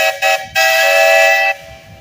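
A Case 65-horsepower steam engine at a parade sounds its whistle loudly and close: two quick short toots, then one sustained blast of about a second before it fades out.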